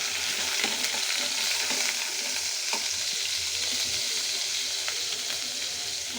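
Onion paste sizzles steadily in hot oil while being stirred for chicken korma, a continuous soft frying hiss with scraping stir strokes scattered throughout.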